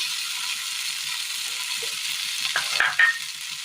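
Onion sautéing in a pan for a Kerala-style curry gives a steady, close hiss of sizzling oil, broken near the end by a few scraping stirs and clinks of a spoon against the pan.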